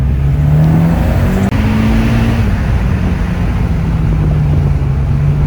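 A remapped Mitsubishi EVO X engine on a dyno, a loud continuous engine drone holding a steady note close by, briefly cut for a moment partway through, with no talking.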